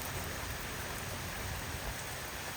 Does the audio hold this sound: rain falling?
yes